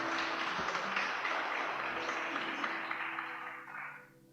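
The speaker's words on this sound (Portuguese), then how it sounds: "Dê um forte aplauso ao Senhor, amém?" A church congregation breaks into applause, a dense, steady wash of clapping held at fairly even loudness before tapering off and fading out near the end.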